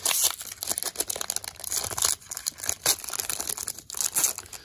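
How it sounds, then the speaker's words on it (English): Pokémon trading card booster packs from the Chilling Rain set are torn open by hand, giving a continuous run of crinkly foil rustling and ripping close up, with no talking. "Now it's time to open up some packs."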